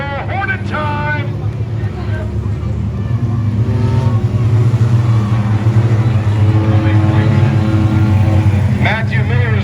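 Feature race cars at LaCrosse Speedway roar loudly and steadily as the field is waved on, engine drone swelling midway, with an announcer talking over the noise throughout.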